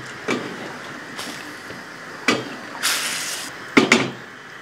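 A spoon stirring chicken nihari in a metal pot, several separate scraping knocks and clinks against the pot's sides spread over a few seconds, sharp and close, with quiet pauses between.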